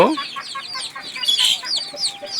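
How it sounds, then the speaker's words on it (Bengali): A flock of about nineteen native chicken chicks on a small farm peep and cluck continuously, a busy chorus of high chirps close by with no voices. "এখানে উনিশ পিসের মতো দেশি মুরগির বাচ্চা আছে"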